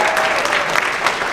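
Audience applause fills a hall at an NMO awareness gala, a dense, steady wash of many hands clapping close by, with no pause through the short stretch.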